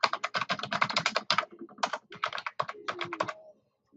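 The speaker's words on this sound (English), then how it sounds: "I'll start by typing" Rapid typing on a computer keyboard, a dense run of close, crisp key clicks with a brief pause near the middle, then a few more scattered strokes before falling silent.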